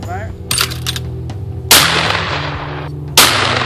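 Shotgun blasts at clay targets outdoors, three sharp loud reports spaced over a few seconds, each decaying into a short echo.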